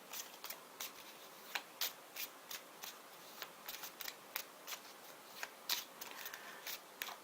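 Tarot cards being shuffled and drawn, heard as a quiet, close series of soft crisp card snaps and slides at an irregular rhythm, with no talking.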